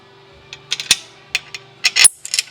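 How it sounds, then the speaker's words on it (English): Bolts being threaded and fitted by hand on Lakes exhaust headers for a flathead Ford engine in a 1933 Ford pickup, a few sharp metallic clicks and scrapes, close and isolated against a quiet background. "Put a couple bolts in just to double check."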